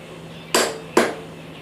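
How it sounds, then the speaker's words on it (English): Two sharp, loud clicks about half a second apart from a torque wrench reaching its set torque while tightening a rear wheel, each snap ringing briefly before fading, with no talk. "Once your torque wrench snaps, you're done."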